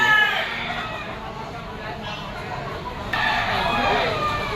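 A bullstag gamefowl rooster crows among roosters for sale in Lipa City, Batangas, two drawn-out crows heard under someone talking.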